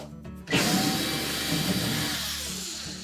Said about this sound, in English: then we'll remove the bolts that secure the hinge to the cabinet